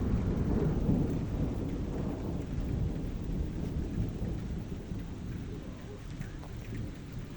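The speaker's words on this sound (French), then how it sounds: "Mais frère, c'est un orage, ça?" A thunderstorm rumbles low and continuous over a steady wash of rain, loudest at the start and easing slightly.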